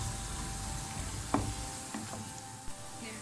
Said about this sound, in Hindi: अब इसके अंदर मैं ये लहसुन अदरक का पेस्ट ऐड कर कर इसको हम अच्छी तरह से भून लेंगे